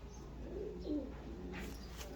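A Teddy pigeon coos softly once or twice against a quiet outdoor background, with faint bird chirps nearby.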